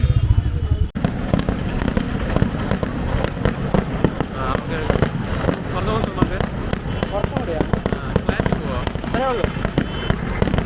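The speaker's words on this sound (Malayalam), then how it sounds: "ഇപ്പോൾ വല്ലങ്കിൻ്റെ വെടിക്കെട്ട് പൊട്ടുന്ന പറഞ്ഞിട്ടുണ്ട്" Vallangi fireworks at the Nemmara Vela festival in 2024, a dense, continuous barrage of loud cracking explosions heard close by, with crowd noise underneath.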